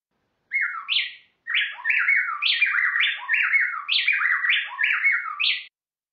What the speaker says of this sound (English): if you close your eyes, it sounds like a single bird is singing, but it's actually this really quick alternation between the males and the female